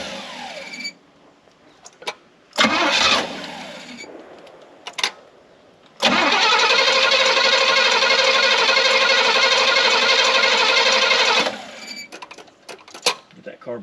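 Engine of a long-neglected Pontiac Grand Prix catching and running with a steady loud drone for several seconds, preceded by short bursts of cranking and sputtering, with talk around it.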